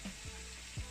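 Chopped cauliflower and mixed vegetables frying in a pan, a steady sizzle broken by two quick scraping stirs of a spatula.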